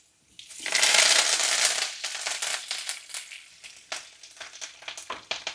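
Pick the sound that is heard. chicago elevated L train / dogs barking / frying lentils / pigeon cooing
frying lentils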